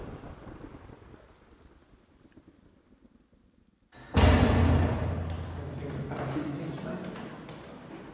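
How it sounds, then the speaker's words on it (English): Heavy rain suddenly starts pouring outdoors. It bursts into a loud, dense roar that stays steady afterward, with a voice talking over it. "it's literally just started pouring like this"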